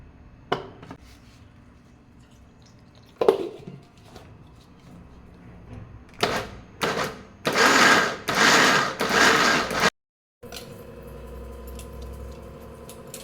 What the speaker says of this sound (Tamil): ஜாரில் போட்டு ஐஸ் வாட்டர் இல்லைன்னா ஐஸ் க்யூப்பை போட்டு நம்ம மெதுவாக ஆட்டி எடுக்கணும்.